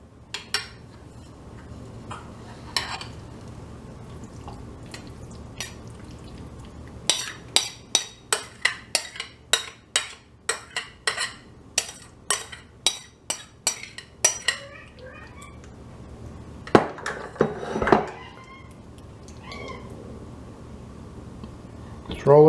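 Chicken pot pie filling spooned into a roughly 9-inch pie plate lined with rolled-out crust, heard as a long series of rapid metallic clinks and scrapes of a utensil against dishware, with some rustling near the end.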